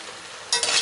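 Soft ackee is stirred in a frying pan: a quiet background sizzle, then a sudden loud burst of stirring and scraping for the last moment of the short clip.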